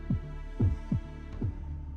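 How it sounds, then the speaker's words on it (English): Slow, deep heartbeat thuds echo through a castle in Fate/Grand Order, four heavy pulses spaced about half a second apart over a low steady hum, with no voices. "Just listen to that heartbeat."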